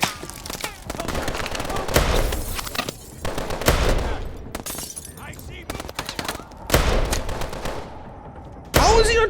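Call of Duty: Advanced Warfare gunfire: loud bursts of automatic fire and single shots come in uneven clusters, broken by brief lulls, with a voice talking over parts of the action.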